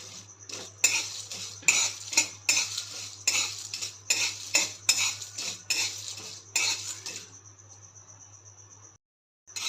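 Cardamom pods with cloves and broken nutmeg dry roasting in a pan, heard as a rhythmic series of sharp scraping, clinking stirs over a faint steady hum, stopping near the end.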